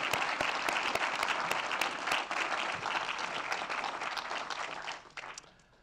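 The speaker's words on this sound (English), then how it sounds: "She really does, I think, deserve a special warm hand of applause." Audience at an awards ceremony applauds warmly, a dense, steady wash of clapping from many hands that holds for about five seconds and then fades out.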